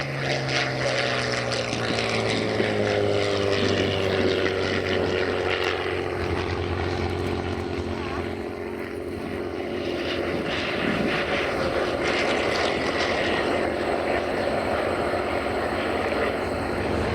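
A propeller-driven bomber in a warbird formation with P-51 Mustang, Spitfire and F4U Corsair flies past, a loud piston-engine drone whose pitch slides downward as it passes, then fades into a lingering rumble.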